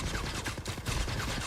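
A meg cannon firing in a video game, a loud dense burst of rapid overlapping shots with a brief dip partway through, continuous and close for the whole moment.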